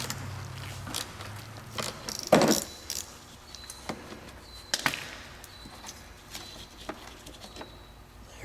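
Channel-lock pliers and a ratchet working speed clips on the bumper of a 2004 Honda Element, giving scattered metallic clicks, scrapes and clinks with one louder rattle partway through, close up and without talk.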